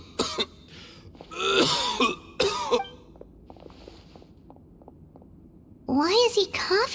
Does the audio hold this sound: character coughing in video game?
yes